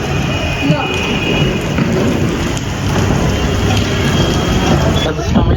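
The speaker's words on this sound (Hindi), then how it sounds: "बारिश आ रही इतनी तेज, पूरा भर गया भाई बारिश से।" Heavy, steady rain pouring down close by, a dense continuous roar with faint voices underneath.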